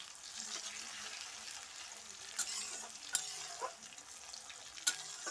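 Chopped tomatoes for chicken kosha fry in a pan while being stirred: a continuous close sizzle with occasional light scrapes and clicks from the spoon, no voices.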